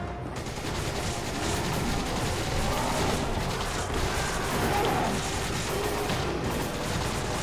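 Sustained gunfire and explosions from Resident Evil 5 on PC, a dense continuous barrage of shots that runs through the whole stretch at steady loudness with no clear pauses.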